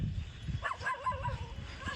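A dog barks a few short, yelping times outdoors on a Rajkot street, fairly faint against steady background noise.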